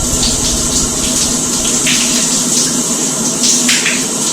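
Loud, steady stream of running water splashing close by as it rinses through knotted hair locks, a constant hiss with small irregular splatters, and no talking.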